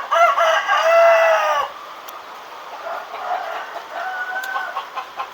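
Kampung chickens at a breeding farm for laying hens, with a loud rooster crow lasting about a second and a half up front, followed by quieter scattered clucking and chatter from the flock.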